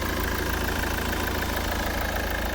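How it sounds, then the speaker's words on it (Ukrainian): A Kia Sorento's 2.2 diesel engine idles steadily with an even, continuous rumble and no talking throughout. "двигун працює ідеально"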